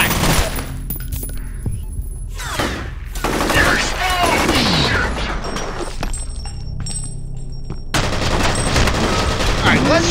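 Gunfire rattles throughout a firefight in the first-person shooter F.E.A.R., with repeated bursts of automatic shots, some sharp impacts, and clinking shell casings.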